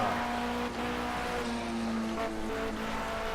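Porsche 919 Hybrid race car in the Project CARS 2 racing game, a high-downforce prototype whose engine whines steadily at high revs with pitch shifts through the Porsche curves, no one talking.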